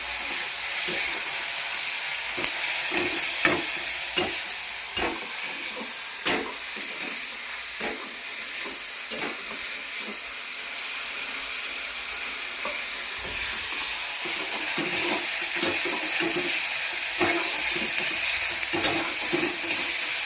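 Noodle ingredients sautéing in a pan after chili powder and salt go in, a steady close sizzle broken by repeated clinks and scrapes of a spatula stirring, with no talk.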